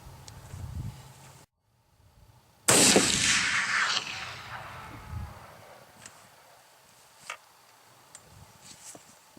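A Knight Mountaineer .45 caliber muzzleloader rifle fires a single loud, close shot after a moment of silence. A long, booming tail fades over a couple of seconds, followed by faint outdoor clicks and noises.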